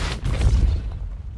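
A Depulso repelling spell cast in the video game Hogwarts Legacy: a single deep, muffled whooshing boom that swells and then fades out over about a second.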